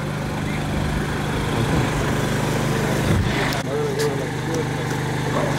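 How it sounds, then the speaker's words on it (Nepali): A motorcycle engine runs with a steady, droning hum, near and fairly loud, as the rider starts the bike for a race. Voices talk faintly in the background. "यति बेला मल्लिका महतले बाइक चलाउँदै हुनुहुन्छ"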